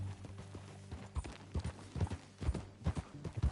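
Horse hooves clip-clop at a steady, even trot in the Red Dead Redemption 2 video game, the hoofbeats close and regular over soft ambient background, with no talking.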